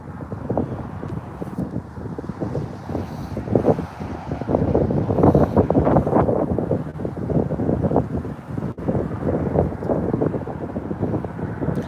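Strong wind roars and buffets the microphone on the Deschutes River during steelhead fishing, a loud continuous rumbling gust that swells and eases for the whole stretch.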